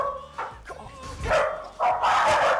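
A stray street dog and a house dog fight over dog food indoors, with loud close barks, snarls and yelps breaking out in bursts that grow more intense toward the end.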